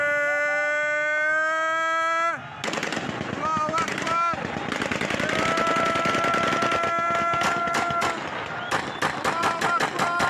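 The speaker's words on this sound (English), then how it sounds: "This is the sound of a crowd gathering in a suburb of the capital today to pull down a" Crowd gathering in a suburb of Damascus to pull down a statue, a dense roar of voices and shouting punctuated by rapid bursts of gunfire and sharp bangs, following a loud sustained horn-like tone.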